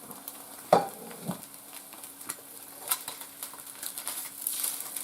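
Eggs frying in a pan for make-ahead breakfast sandwiches, with faint sizzle and scattered stirring and utensil clicks, one sharp knock near the start and the crackle building toward the end, no talk.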